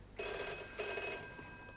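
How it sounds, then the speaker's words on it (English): An office telephone bell rings in a single sustained burst, bright and metallic, moderately loud in a quiet room, with no talking. "That's your office phone."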